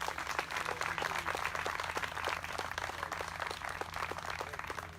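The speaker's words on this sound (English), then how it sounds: "I'd like to give them a round of applause." Dense, steady applause from an audience at a dedication ceremony for the Louise Gasser Kirtley memorial, a monument to the 19th Amendment. It is a continuous crackle of many hands, fairly faint and distant, with no pauses.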